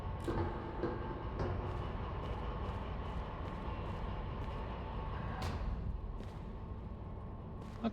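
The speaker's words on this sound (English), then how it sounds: "And we'll take our run down to the end of the train." A heavy freight train in the Derail Valley railway simulator rumbles along at a steady pace with low droning wheel and engine noise and occasional clanks from the cars, fairly faint throughout.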